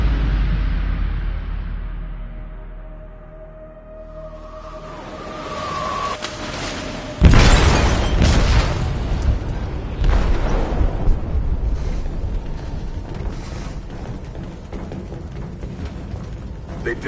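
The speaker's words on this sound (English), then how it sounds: "They detonated an explosive in the hold. The ship is sinking, sir." An explosive detonates in a ship's hold in the video game Detroit: Become Human: a sudden loud, broadband blast cuts through low ambient hum, followed by a long rumbling, crackling aftermath of debris and groaning structure.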